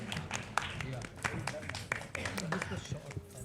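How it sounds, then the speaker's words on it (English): An audience at an Indian Racing Festival event claps in a moderate round of applause, with distinct individual claps and some voices mixed in. "So can we have a round of applause for RPPL,"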